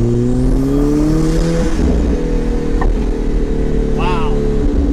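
An Alfa Romeo 4C with a cold air intake and centerline exhaust revs and pulls hard through the gears, a loud rising roar with a shift midway into third, heard from close by.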